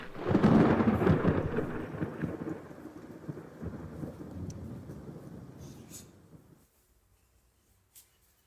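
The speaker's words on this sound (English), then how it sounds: "I hear thunder." Deep rolling thunder with rain-like hiss, loud at first and slowly fading over several seconds before dropping to near silence, with a faint click near the end.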